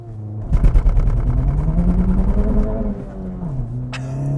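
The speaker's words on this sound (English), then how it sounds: "'24 Acura Integra Type S with some kind of launch control" A 2024 Acura Integra Type S engine held at steady high revs on launch control, a loud close drone that rises slightly in pitch, then dips and settles back near the end.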